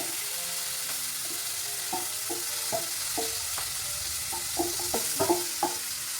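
Chopped garlic frying in a pan for a paneer starter: a steady, even sizzle fills the background while faint clinks and scrapes of stirring come through now and then.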